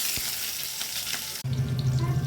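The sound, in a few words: capsicum added to hot oil with spices, frying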